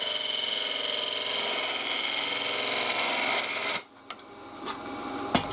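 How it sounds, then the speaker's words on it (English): A wood lathe spins a piece of wood while a tool trims it, giving a steady loud rasping, scraping whir that stops abruptly, leaving a few quiet knocks and clicks. "Right, we've come over to the lathe."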